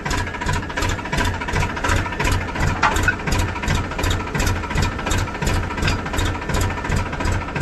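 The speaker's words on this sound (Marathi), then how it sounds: "ट्रॅक्टर सुरू झालेला आहे आपला" Farm tractor engine running at steady idle, a close, loud, rhythmic chugging throb with regular pulsing beats throughout, no voices.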